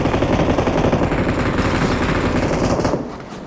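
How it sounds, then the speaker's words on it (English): Rapid automatic gunfire in a PUBG match crackles in a dense, continuous volley of loud shots, then cuts off abruptly near the end. "We can hear the gunshots"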